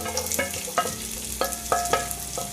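Chopped onion frying in a pan with cumin, cardamom and cinnamon, a close, steady sizzle broken by several sharp stirring knocks and scrapes of the spoon against the pan.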